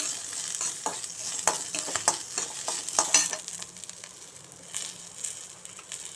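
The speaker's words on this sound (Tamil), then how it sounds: "அந்த வெங்காயம் வரமிளகாய் போட்டு நல்லா வணக்குங்க" Onion and dried red chillies sautéing in oil for an aloe-flower chutney, a continuous soft sizzle broken by repeated spatula scrapes and stirring taps against the pan, with no talk.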